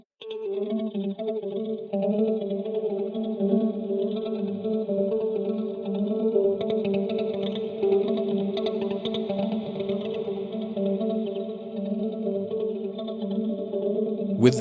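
Guitar run through a delay effect processed by the Eventide SplitEQ plugin, a sustained, steady tone with layered echoing repeats and chorus-like shimmer, moderately loud and continuous with no talking.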